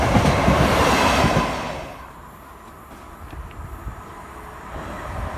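A Network Rail train passes at South Hampstead on the West Coast Main Line, a loud close rumble for the first two seconds that then fades to a quieter rolling sound with faint clicks.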